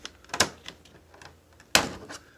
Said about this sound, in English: I'm literally just cutting this with scissors